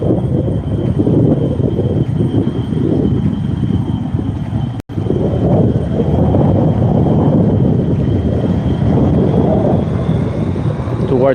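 An airplane taxis toward the runway near an airport, giving a steady, loud, broadband engine roar that holds for the whole stretch, broken only by a brief dropout partway through.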